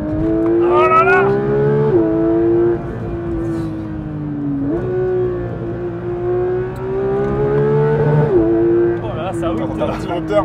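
A Porsche GT3's engine revs hard toward its 9000 rpm limiter, a loud, sustained near wail climbing repeatedly with short dips between pulls, filling the whole stretch.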